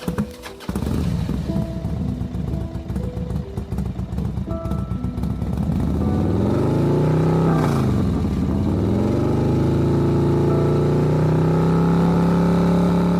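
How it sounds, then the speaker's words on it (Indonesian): A motorcycle engine starts with a sharp catch, idles briefly, then revs hard and pulls away with rising and falling pitch, staying loud and close throughout with no talk. "menghidupkan sepeda motornya dan tancap gas dari tempat itu"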